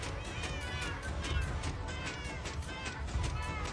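Cats meowing in a video game, a rapid run of overlapping high mews repeating throughout over a dense, busy game background, with no speech.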